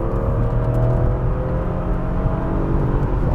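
A BMW E36 M3 under steady acceleration, its engine a continuous loud drone with rising harmonic tones and road rumble, heard from inside or close to the car with no talking.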